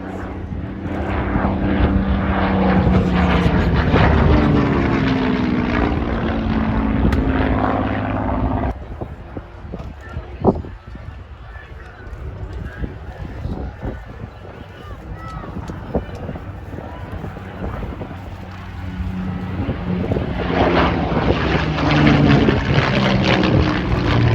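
Propeller warplanes, a Hurricane and a Spitfire with Merlin engines, roar past at an air show, the engine drone loud and sustained, fading in the middle before swelling again, with a voice talking over it.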